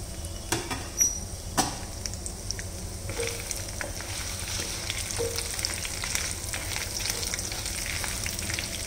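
Two chilies, chana dal and cumin crackle in hot tempering oil, a steady close sizzle opened by a couple of sharp clinks, with light popping spatters throughout and no speech.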